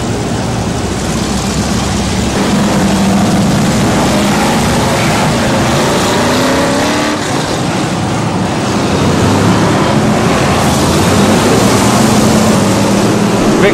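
BriSCA Formula 1 stock cars race around the Northampton oval in the 29-car Consolation race. Their engines make a loud, continuous, throbbing roar that swells and fades slightly as the pack circulates, with no talk.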